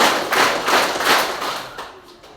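A group of junior high scout trainees claps a five-beat pattern in a school orientation session, loud, dense bursts of many hands striking roughly in unison, then tapering off.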